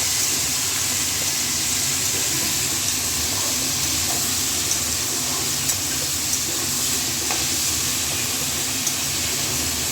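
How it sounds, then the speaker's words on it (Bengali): Taro pieces frying in a pan with salt and turmeric give a steady, even sizzle that hisses continuously without pause throughout. "এরপরে একটু নুন আর হলুদ দিয়ে কচুটাকে আগে প্রথমে একটু ভাজি ভাজি করে নেব।"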